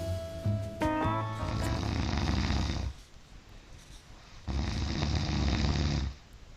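A man snores while sleeping with an anti-snoring gadget, two long loud rasping breaths separated by a quieter pause, close to the recorder.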